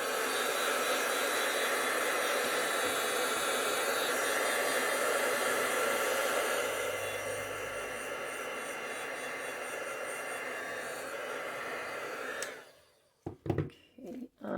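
A heat tool blows a steady, loud whooshing roar while drying paint on a heat-embossed tile, then eases to a softer hum before cutting off, followed by a few quick clunks and handling noises.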